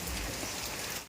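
Rain falls steadily in a dense, even hiss over the surfaces nearby, then cuts off abruptly at the end.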